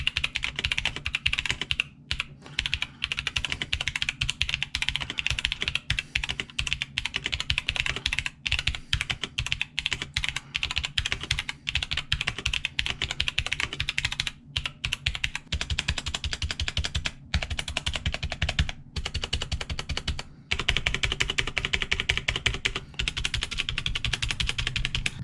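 A Jidohun KB115 mechanical keyboard is typed on in a continuous run of close, clicky keystrokes, with occasional brief pauses and heavier presses, heard alone with no talk.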